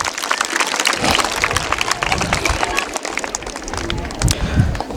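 A crowd at a Shivaji Jayanti quiz gathering breaks into loud, dense applause, a close, continuous wash of many hands clapping at once with a few shouts mixed in, holding steady throughout.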